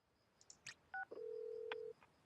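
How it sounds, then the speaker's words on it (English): An incoming phone call in the Heartopia video game: a few quick electronic beeps and chirps, then one sustained steady tone of about a second, clean and alone. "Phone call."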